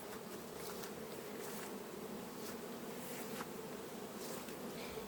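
Honey bees fly and work at an apiary in autumn, a steady, soft, continuous buzzing with no talk.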